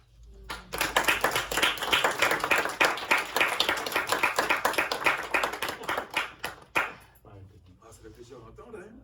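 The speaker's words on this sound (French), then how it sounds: "Les applaudissements." An audience at a philosophy night event breaks into brisk applause, close and fairly loud, building quickly, then tapering off into scattered claps and murmuring voices near the end.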